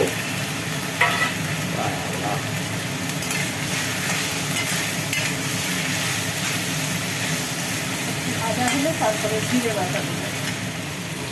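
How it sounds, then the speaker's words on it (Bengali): Spices, tomato, onion and ginger-garlic paste fry in a pan for khichuri, a continuous, even sizzle filling the whole stretch at a steady moderate level. "মশলা আর টমেটো একটু ভাজা হলো"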